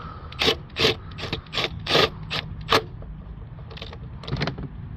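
Bolts are run down on a Peugeot 3008 2.0 HDi engine with a power tool, giving a series of short close whirring ratchet bursts with brief pauses between them, no talk.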